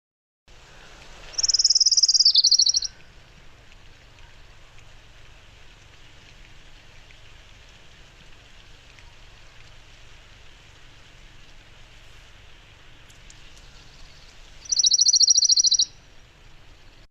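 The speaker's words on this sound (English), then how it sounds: "I'm going to play an orange-crowned warbler song." A recorded orange-crowned warbler song plays twice, about thirteen seconds apart. Each is a short, high, bright trill over a faint, steady background hiss.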